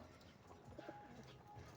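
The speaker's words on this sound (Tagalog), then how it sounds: "Maraming tumutukod ng kalapati dito malapatids." Pigeons coo softly in a short, faint burst against a quiet background hum, a few low rounded calls at a pigeon loft.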